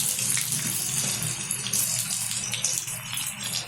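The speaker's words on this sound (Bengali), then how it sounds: "তেলটা গরম হয়ে গেছে, তেলের মধ্যে দিয়ে দিচ্ছি কুচিয়ে রাখা পেঁয়াজ।" Chopped onions hit hot oil and sizzle loudly for mutton vindaloo, giving a close, steady hiss with no talk.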